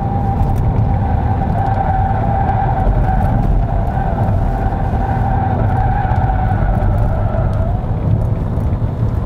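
A Peugeot 5008 driven quickly into corners on a hilly road, with a loud, steady interior engine drone and road rumble plus a faint tonal whine that shifts slightly, continuous throughout.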